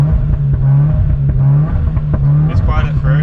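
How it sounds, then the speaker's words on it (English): A Subaru WRX fitted with a Borla S-Type exhaust revs with the clutch in and the shifter in first gear, giving a loud, steady, deep engine drone close by, with short sharp bursts and crackles near the end. "you're going to push the clutch in, keep the gear shifter in first, and then just start revving"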